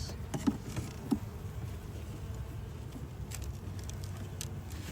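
Honey bees buzz steadily around an open hive during an inspection, a dense low drone with occasional louder passes close by, and no voices over it.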